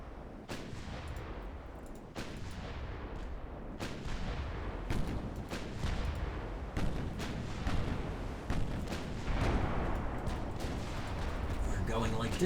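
Battleship broadside gunfire in the naval warfare game Ultimate Admiral: Dreadnoughts, with repeated heavy booming salvos landing every second or two over a dense rumbling battle bed, and a voice talking throughout.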